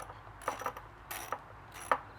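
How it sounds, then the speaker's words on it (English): Ratchet and socket loosening the carburetor bolts on a 125cc pit bike, giving a few faint, short metallic clicks spaced about half a second apart with quiet gaps between them. "Now you grab a ratchet and a socket and start to undo these pieces,"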